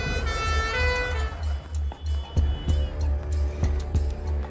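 An ambulance siren wails with rising and falling tones for about a second and a half, then fades under a heavy low engine rumble broken by a few sharp thumps.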